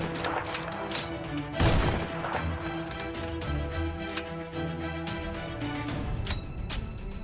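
Rapid volleys of Lee Enfield bolt-action rifle fire, sharp shots cracking out one after another in a fast, uneven rhythm with a loud burst near the start, as in a timed rapid-fire drill at multiple targets.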